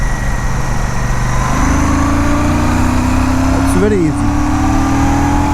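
A Royal Enfield Classic 650 parallel-twin motorcycle accelerates in third gear. The close engine drone climbs steadily in pitch as a rider talks over it.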